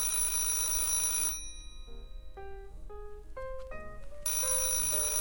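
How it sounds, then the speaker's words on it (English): A telephone rings with an incoming call, loud bright trilling bursts at the start and end framing a quieter passage of short melodic tones in between, with no talking. "Oh boy, another phone call."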